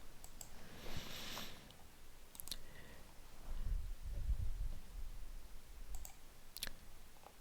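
Computer mouse clicks starting a Zoom meeting: a few sharp, quiet clicks spaced apart in a near-silent room.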